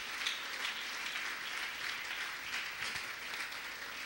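Congregation applause during a Spanish-language church service, a faint, distant, steady wash of clapping with no speech over it.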